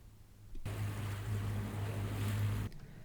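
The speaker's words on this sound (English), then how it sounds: "We lose the wind as we pass Suduroy and approach the islands of Hestur and Koltur, so have to put the engine on" A sailboat motoring under engine power at sea near the Faroe Islands, passing Suduroy toward Hestur and Koltur: a steady low drone with wind and water rush, starting abruptly and running evenly for about two seconds before cutting off.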